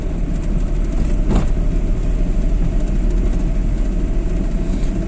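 During a driving lesson a car's engine drones loud and steady from inside the cabin as it accelerates, with one brief knock partway through.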